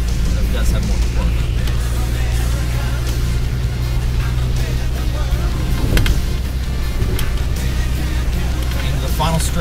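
A car with a four-speed gearbox drives on a road on Hatteras Island, its engine droning steadily with rumbling low end and wind noise, with a brief surge near the middle, under talk from the occupants.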